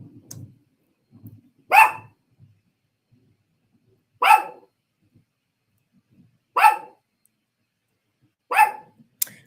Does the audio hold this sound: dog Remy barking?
yes